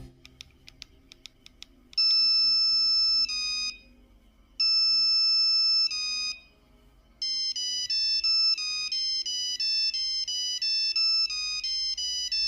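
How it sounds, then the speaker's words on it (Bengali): Ringtone from the Aahat TV horror show, as loaded on Nokia mobile phones: a few quick high beeps, then loud electronic melodic phrases in bursts with short gaps, closing in a busier repeating tune. "তখনকার সব থেকে পপুলার মোবাইল ফোন নোকিয়ার ফোনেও এর রিংটোন দেওয়া ছিল"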